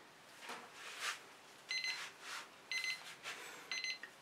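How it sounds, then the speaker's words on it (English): A kitchen timer sounds during an acrylic fluid-art painting session, giving three short bursts of rapid high electronic beeps spaced about a second apart, fairly close and clear, with soft rustling activity in between. "that's my timer telling me"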